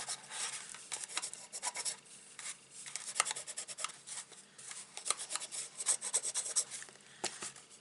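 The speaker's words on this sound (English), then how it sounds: "rub your bone fold in till it's all stuck down" A bone folder rubs firmly over a paper gift box, giving a steady series of dry, scratchy strokes up close with an uneven rhythm and no talking.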